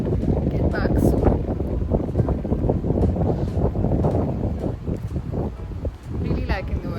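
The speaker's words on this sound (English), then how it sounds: "Really liking the wind" Strong wind buffeting a microphone outdoors on a sunny day, a constant loud rumbling roar with gusty bursts throughout, with no other sound standing out.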